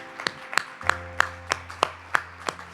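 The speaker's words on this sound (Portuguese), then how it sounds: "Eu mesmo aplaudo." Sharp claps from a Brazilian church preacher applauding during a sermon, about eight evenly spaced claps, close and clear over a low steady hum, with no talking.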